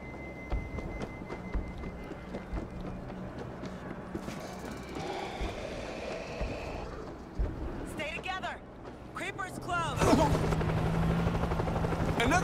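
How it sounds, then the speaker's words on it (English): A helicopter flies overhead in the video game World War Z, set in New York, its rotor thumping steadily under scattered game noise and swelling louder toward the end. "Another chopper!"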